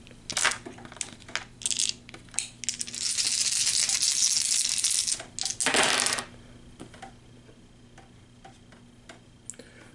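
Six dice rolled during an Arkham Horror board game: scattered clicks, then a sustained clattering rattle for a few seconds as the dice tumble, a final burst, and a few isolated taps as they settle, close-up.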